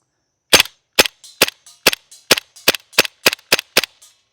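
Around ten sharp gunshots fired at a shooting range while zeroing a solar-powered dot sight, spaced roughly half a second apart, loud and close with no talking.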